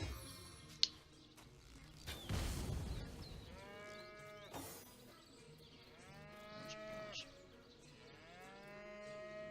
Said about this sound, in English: Is there a cow down here?